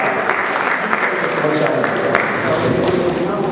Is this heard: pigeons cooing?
no